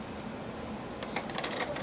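A sewing machine back-stitches a fabric seam on a hexagon placemat: a quiet, steady mechanical hum gives way to a quick burst of light rattling clicks near the end.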